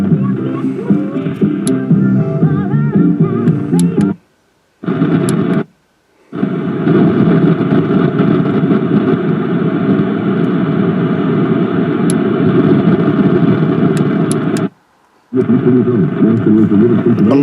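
A Blaupunkt TRT1049 'Toronto' car radio gives off steady crackling static and hiss, likely picked up from lightning, loud and continuous with a few brief silent dropouts.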